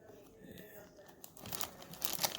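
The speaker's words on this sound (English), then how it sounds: "Came in a nice little plastic bag." A plastic bag crinkles and rustles close by during the unboxing of a folding keyboard, quiet at first and then louder and busier toward the end.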